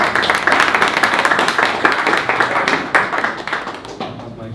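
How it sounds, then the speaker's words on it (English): Audience applause at a conference talk on renewable energy data, a moderately loud crowd clapping with distinct rhythmic hand claps that gradually taper off. "So a round of applause, everybody."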